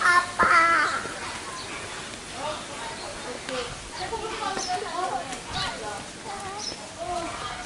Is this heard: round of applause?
no